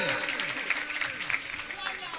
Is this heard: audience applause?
yes